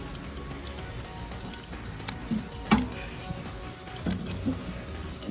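BBQ ribs searing on an outdoor barbecue grill, a soft steady sizzle and crackle under a few sharp clinks and taps of tongs against the grate, with no one talking.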